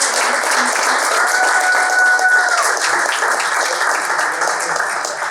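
A Toastmasters meeting audience applauds steadily for the Toastmaster, a dense, even wash of clapping that holds for several seconds at a constant level, with a faint tonal whistle briefly in the middle.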